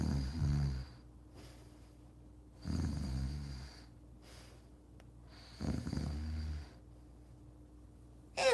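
Three imitated snores from a single person, each a loud rasping inhale roughly every three seconds, separated by quieter breathing, with no speech.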